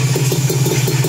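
A motorcycle engine idles while warming up, a steady low rumble with an even, quick pulsing beat, close and loud throughout.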